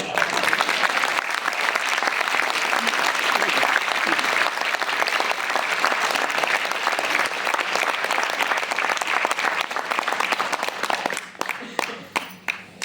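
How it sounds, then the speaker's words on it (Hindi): Large audience at a business leadership award event in Chhattisgarh applauding, a loud, dense and steady wash of clapping that thins into scattered claps at the end. "कुछ ताली तो आपके बची हो, मुझे दीजिए"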